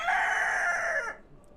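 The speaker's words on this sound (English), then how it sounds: "excuse that chicken." A chicken on a livestock farm crows once, a single clear cock-a-doodle-doo lasting about a second at moderate distance, then fades into quiet.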